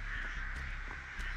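Crows caw in Dead by Daylight, a few harsh, rasping calls over a steady ambient game drone.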